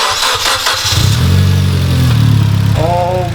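A Mitsubishi Evo X engine cranks and fires up after an intercooler piping install, a strong low rumble swelling into a steady close idle, with a brief whine or voice-like tones near the end.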